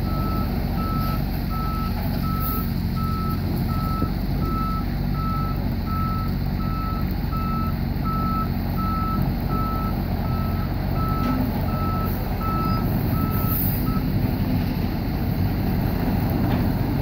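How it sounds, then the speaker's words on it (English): A truck backing into position while filling a trench, its reversing alarm beeping steadily at an even rhythm for most of the stretch over a loud, constant engine rumble, with no talking. "Truck number three, backing into position."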